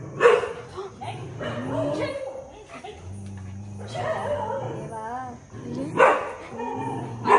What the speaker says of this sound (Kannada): ನಾಯಿಗಳು ಗೇಟ್ ಒಂಚೂರು ತೆಗೆದ್ರು ಒಳಗಡೆ ಬರ್ತವೆ